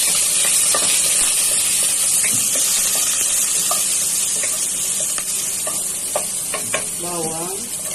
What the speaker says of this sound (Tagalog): lagyan po ng mantika, sibuyas, unahin po natin ang sibuyas